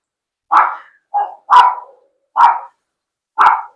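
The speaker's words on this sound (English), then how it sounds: "excuse my little dog in the background." A small dog barks five times in a steady, spaced-out run, close and fairly loud, with no talk over it.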